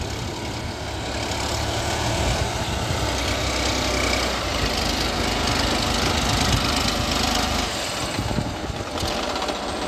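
A Massey Ferguson 9500 58 hp tractor engine drones steadily and loudly while pulling a 16-disc harrow, a constant rough diesel roar with no pauses.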